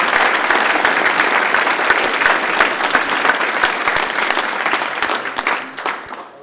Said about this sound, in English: Please join me in giving Wick another round of applause.